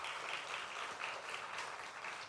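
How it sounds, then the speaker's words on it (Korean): A church congregation applauds during a Sunday worship service, producing a continuous, fairly even roar of many hands clapping from a room-sized crowd, with no speech over it. "우리 박수로 하나님께 영광 돌립니다"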